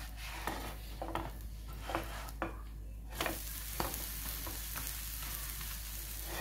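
A potato sandwich roasting in butter on a flat tava sizzles steadily, with repeated soft scraping and tapping from a spatula as it is turned, close and continuous.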